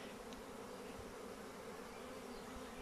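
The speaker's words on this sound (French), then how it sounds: "La marée d'abeilles." A honey bee swarm gathered high up, giving a steady, dense buzz that holds evenly throughout, close and unbroken, with no voices.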